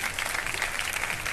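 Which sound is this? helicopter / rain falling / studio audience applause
studio audience applause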